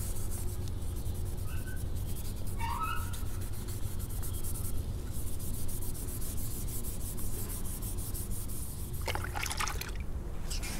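A maroon Scotch-Brite pad scuffs the painted surface of a Dodge Charger wheel, making a steady, close abrasive rubbing that continues without pause.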